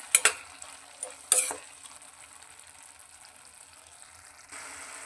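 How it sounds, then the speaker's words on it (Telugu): Garlic cloves stirred and fried in a pan with softened tomatoes, a few sharp scraping stirs near the start over a steady quiet sizzle, then a brighter burst of frying near the end. "ఇప్పుడు వెల్లుల్లిపాయలను వేసుకోవాలి వేసి బాగా కలపాలి"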